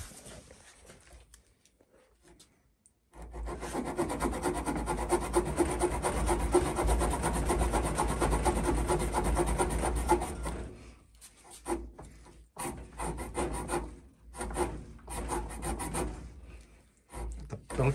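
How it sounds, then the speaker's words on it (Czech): A pocket folding saw cutting through wood during a Mikov versus Victorinox saw test, steady close rasping strokes for several seconds, then slower, broken strokes with pauses. "Pilka se prostě hryže."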